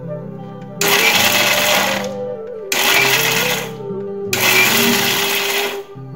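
A mixer grinder whirs in three short, loud pulse bursts, blending fried pakoras into coarse crumbs for motichur laddu, each burst roughly a second long with a brief gap between them; no one speaks.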